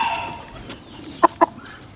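Aseel fighter rooster clucking: two short, loud, closely spaced clucks come near the end, after a stretch of quiet background murmur.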